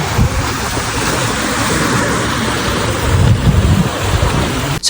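Sea waves at a beach roar and wash continuously, loud and close, with a broad rushing surge that swells slightly toward the end.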